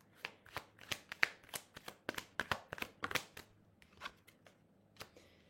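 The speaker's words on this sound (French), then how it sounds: "J'ai envie de prendre quelques cartes de l'oracle Parle-moi." A deck of oracle cards is shuffled by hand, giving a quick, uneven run of crisp riffling slaps and taps, close and clear, which thins out toward the end.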